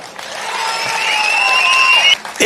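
A large crowd at a political meeting breaks into dense, sustained clapping and cheering, with shrill whistles riding on top, before it cuts off abruptly near the end.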